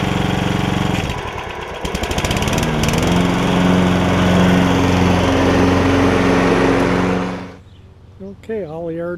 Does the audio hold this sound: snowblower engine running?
yes